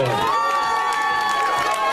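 A crowd at a supermarket's beer-crate prize draw in Olevsk cheers and whoops with scattered clapping, a lively, dense burst over two seconds with voices mixed in.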